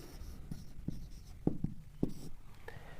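Pen or chalk strokes scratch across paper or a board during a Class 10 maths lesson on real numbers, several short distinct marks in a quiet room with soft background noise.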